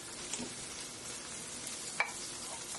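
Mushrooms sizzle in a stir-fry pan with shrimp, sausage and vegetables, a steady close hiss of frying broken by a couple of faint clicks from stirring.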